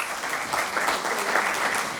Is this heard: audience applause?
yes